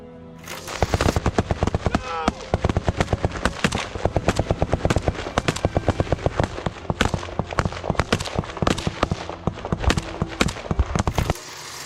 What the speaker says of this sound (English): Adjust your helmet and prepare for action, because here come the bullets.